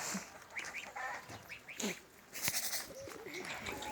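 Calls of a bird, likely waterfowl such as a duck or goose, in a short series of chirps and honks against steady background noise, moderately faint and with no voices.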